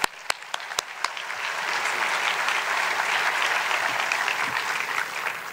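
An audience at a film festival awards evening breaks into sustained applause to welcome the host, a few distinct early claps quickly swelling into a steady, full wash of clapping.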